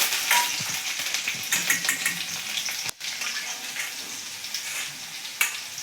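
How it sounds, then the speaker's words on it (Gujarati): Curry leaves, whole dried chillies, coriander and cumin crackle and sizzle in hot oil, a steady close frying hiss with sharp pops, one brief drop near the middle, for besan kadhi. "અહીંયા આપણે મરચાં નાખી દઈશું હવે આપણે લીમડો નાખી દઈશું"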